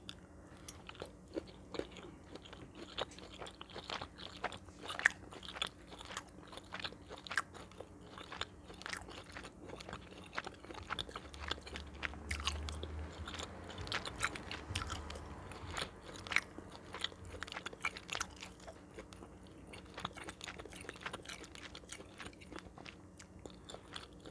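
Close, quiet chewing of a Healthy Choice beef merlot frozen meal, with repeated small bites, crunches and wet mastication clicks in an irregular rhythm, with no speech.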